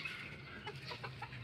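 Chickens cluck softly in short, scattered calls over a low background hum, faint and close.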